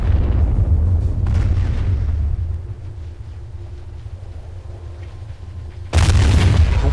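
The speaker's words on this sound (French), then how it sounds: "vous voyez que tous les 88 se lèvent en position artillerie pour tirer" German 88mm guns fire as artillery in Company of Heroes, with a low rumbling battlefield bed and a single loud, close cannon blast near the end.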